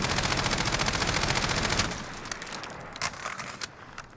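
Rapid automatic bursts from an MTAR-21 rifle in Call of Duty Modern Warfare, a loud, dense rattle of shots lasting about two seconds, then a few short trailing pops and clinks as firing stops.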